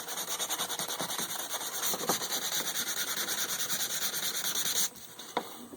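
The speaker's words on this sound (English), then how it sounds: "I'm not sanding too hard on this." Steady rhythmic rasping of 150-grit sandpaper rubbed lightly back and forth on wood, close and continuous, stopping briefly near the end before one last stroke.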